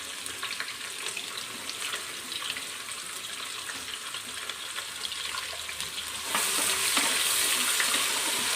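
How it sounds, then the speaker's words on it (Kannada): Chopped onions frying in oil for vegetable pulao, a steady close hiss and sizzle that swells louder toward the end, with faint scraping of stirring and no talking. "ಈರುಳ್ಳಿ ಹೇಗೆ ಬೇಯಬೇಕು ಅಂದರೆ ಗೋಲ್ಡನ್ ಬ್ರೌನ್ ಕಲರ್ ಬರೋವರೆಗೆ ಈರುಳ್ಳಿ ಬೇಯಿಸಿದ್ರೆ ಪಲಾವು ತುಂಬ ರುಚಿಯಾಗಿ ಬರುತ್ತೆ"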